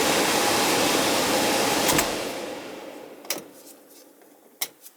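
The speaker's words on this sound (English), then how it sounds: "Fan's running" An air conditioning system about fifteen years old runs its fan with a steady, loud broadband whoosh that fades after two seconds, followed by a few sharp clicks and knocks in the quieter tail.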